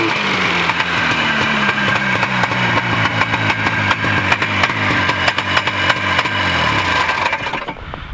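Vintage 1970s Arctic Cat snowmobile engine running rough just after a cold start, a loud continuous two-stroke burble with uneven pulsing and wavering pitch, close by, with no talk over it.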